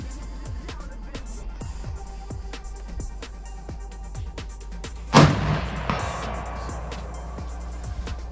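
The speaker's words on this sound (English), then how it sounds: "And now I'm gonna shoot it without the brake." One loud, sharp rifle shot from a Christensen Arms 300 PRC fired without a muzzle brake cracks outdoors, its boom decaying over a second. Faint ticking and background hum run before it.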